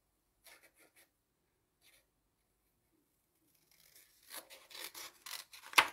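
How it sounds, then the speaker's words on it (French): Scissors snip through paper to cut out bird shapes: a few faint isolated scrapes early on, then a denser run of soft, close cutting rasps near the end. "On détourne avec nos ciseaux qui coupent super bien"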